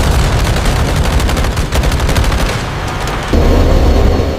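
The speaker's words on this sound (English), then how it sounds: "Sánchez fires his cannons, trying to suppress the British guns." Cannon fire from a Skyhawk jet in a Falklands War dramatization, a rapid, loud, rattling burst of repeated shots over a heavy rumbling roar that continues throughout.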